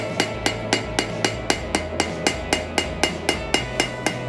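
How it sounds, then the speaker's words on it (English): Blacksmith hammering the edges of a knife blade at the forge, a steady run of about sixteen evenly spaced metallic blows, close and bright, each ringing briefly before the next. "you just want to hammer it into it"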